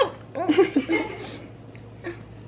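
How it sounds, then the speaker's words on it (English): A few short, sharp hiccups with breathy laugh-like bursts, close and moderately loud, followed by a quieter one after a pause. "Sorry, I have hiccups."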